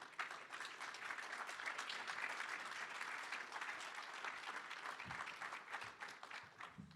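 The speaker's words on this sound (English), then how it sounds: "give them a round of applause while they come up to the stage" An audience at a political panel session applauds steadily for about seven seconds, a dense, even wash of many hands heard from a distance and without speech.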